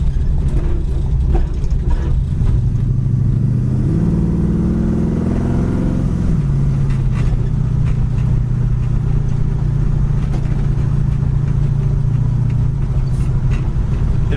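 A 1969 Chevy Camaro V8 fitted with headers idles with a deep, loud rumble, revs up and down in a smooth swell, then settles back into a steady, throaty idle.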